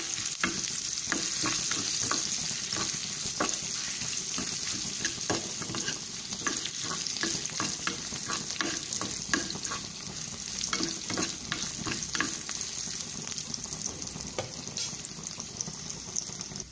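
Crushed garlic tempering sizzles in a hot pan for tomato rasam while a utensil scrapes and stirs in irregular clicks, a steady frying hiss underneath throughout.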